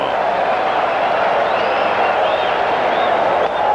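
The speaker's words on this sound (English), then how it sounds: "And now the crowd using their own energy, trying to will a little extra stamina to Hershiser." A baseball stadium crowd at the 1988 World Series Game 2, Oakland against Los Angeles, cheering on pitcher Hershiser: a steady, dense roar of many voices with scattered whistles rising above it, unbroken throughout.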